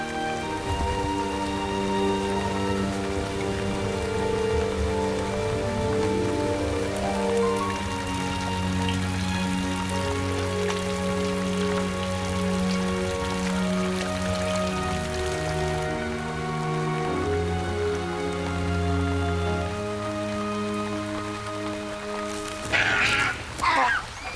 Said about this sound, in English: in the tropics, rain can mean deluge